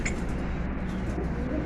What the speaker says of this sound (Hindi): ये सारे पकड़े हुए कबूतर हैं सारे